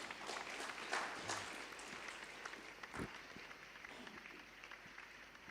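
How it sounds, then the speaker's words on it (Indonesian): Congregation clapping hands together in a church service: a scattered, fairly faint patter of many hands, rising slightly then thinning out, with a sharp thump midway. "Kita tepuk tangan dulu buat Tuhan."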